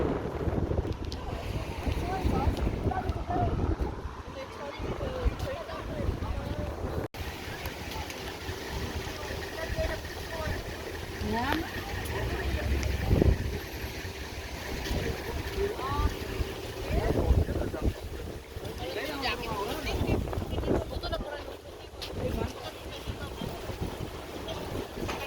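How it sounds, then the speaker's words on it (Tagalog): Strong wind at an outdoor Canada Day band event in Saskatoon, Canada, buffets the microphone with a constant low roar and gusty rumble, with indistinct voices in the background throughout. "Grabe yung hangin kanina."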